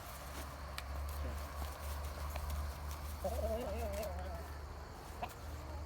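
A rooster crows partway through, a wavering call over steady low rumble and background chatter outdoors.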